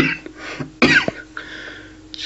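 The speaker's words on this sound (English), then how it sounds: "Just a little cough there." One sharp, close cough cuts through, short and loud, with quiet breathing and faint throat noise around it and no other sound.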